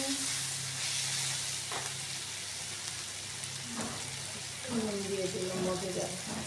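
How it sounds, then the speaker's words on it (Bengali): Soybean curry with onions sizzles steadily in a pan while Kashmiri red chili powder is stirred in, with soft scraping strokes. Someone speaks briefly near the end. "কাশ্মীরি লাল মরিচের গুঁড়ো। এখন ভালো করে মিক্স করবেন।"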